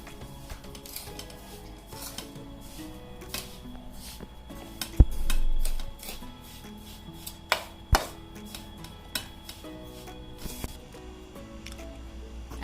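Fenugreek and mango pickle ingredients for sambhari keri worked together with a spoon: scattered light clinks and scrapes against the bowl, with one duller thump partway through and a few sharper taps.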